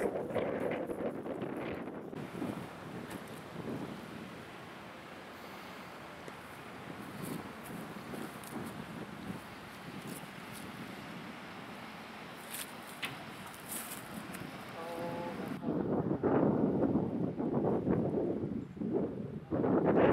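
Wind gusting across an outdoor disc golf course at a middle school, a steady broadband rush buffeting the microphone throughout, swelling louder and rougher toward the end.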